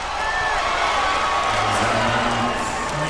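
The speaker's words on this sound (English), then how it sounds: "That one, the crowd was actually protesting that." A large arena crowd at a 2007 Stanford versus USC college volleyball match, a dense, sustained roar of voices protesting a call, loud and continuous with scattered shouts rising through it.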